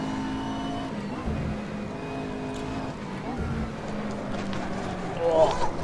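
McLaren MP4 GT3 race car engine in the video game Assetto Corsa, a steady droning tone under ongoing commentary, the pitch shifting slightly as it drives.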